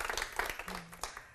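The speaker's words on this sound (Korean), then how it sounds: "우리 박수 한 번만 보내드릴게요" A faint, short burst of crowd clapping at a lecture on hymns, soft and distant, with steady overlapping claps and no speech.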